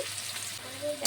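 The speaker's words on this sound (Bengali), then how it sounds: "সামান্য একটু নুন দিয়ে উচ্ছেটাকে একটু কড়া করে ভেজে নিয়েছি।" Bitter gourd pieces frying in hot oil with a little salt, giving a soft, steady sizzle close by, quiet and alone, with a brief clatter at the end.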